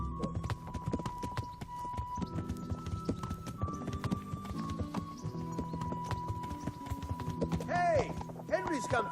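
Horse hooves clip-clop at a steady walking rhythm in the medieval game Kingdom Come: Deliverance, close and continuous under game music, with a short whinny-like call near the end.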